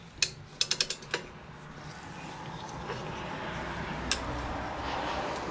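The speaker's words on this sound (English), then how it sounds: "The tool is centered on each caliper and it's starting to push the thing back now" A brake caliper piston tool is worked on the front brakes of a 2013–2017 Lexus GS350, giving a quick burst of sharp ratcheting clicks, one lone click later, then a low mechanical hum.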